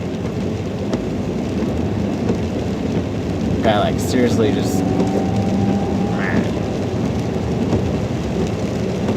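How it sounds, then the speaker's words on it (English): Steady rain pours outdoors, loud and continuous, while a rumble of thunder rolls through the middle; a person talks briefly over the downpour. "Did I mention it's raining?"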